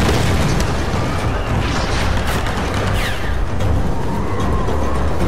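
A bomb blows up during combat in Tomb Raider Definitive Edition on PS4, giving dense, loud, sustained booming and rumbling with crackling debris that fills the whole stretch without a break.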